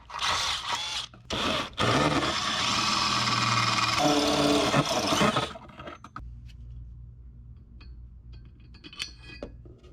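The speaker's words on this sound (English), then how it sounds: "I marked a couple locations for the holes to be drilled for the mount." A power drill bores holes into vehicle metal for an exhaust hanger mount: a few short starts, then a sustained whining drill run lasting several seconds, followed by quiet handling clicks and a low background hum.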